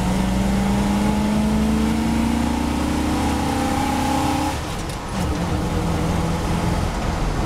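Car engine pulled hard through second gear, the revs climbing steadily in a loud, close, rising whine before a brief dip and the next pull, with no talk over it.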